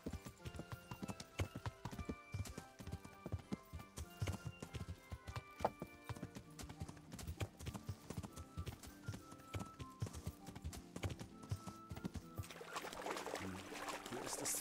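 Horse hooves clip-clopping steadily while riding in the medieval video game Kingdom Come, a continuous rhythmic trot over ground with game ambience, shifting near the end toward a splashing, watery wash.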